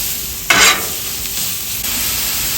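Sausage and onions sizzling on a Blackstone griddle, a burst of loud sizzle as food hits the hot surface, then a steady close crackling hiss.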